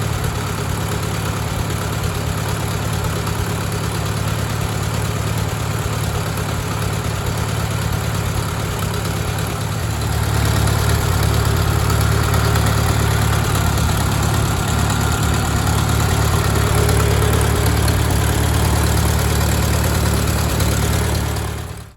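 A Farmall tractor engine, recently converted to 12 volts with a magneto, runs continuously at a loud, steady idle up close. Its low rumble grows slightly heavier partway through, and no one speaks.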